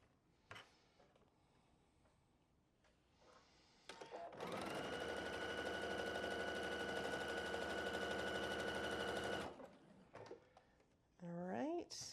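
A sewing machine runs steadily for about five seconds, stitching quilt block pieces together for a floral quilt block. A voice talks briefly before and after the stitching.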